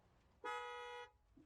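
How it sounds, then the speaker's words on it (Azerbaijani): Single car horn blast, loud and close, lasting just over half a second against quiet background, followed by a faint low thump. "Bayaqdan bütün maşınlara minib bir-bir siqnal verirlər"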